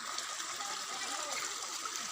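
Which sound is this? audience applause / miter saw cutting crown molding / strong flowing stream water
strong flowing stream water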